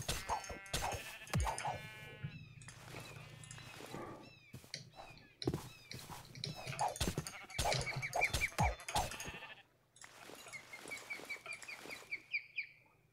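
Sheep bleating in Minecraft with the RLCraft mod: several short, wavering game bleats recur through the scene over a low steady hum, mixed with other scattered game sounds, and no one speaks.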